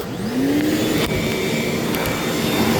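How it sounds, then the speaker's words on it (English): A shop vac runs loud and close in a woodcarving workshop, a steady roaring whoosh that swells briefly as the motor spins up and then holds constant. "give it a quick blast from my other vacuum that I've got in here, which is a shop vac"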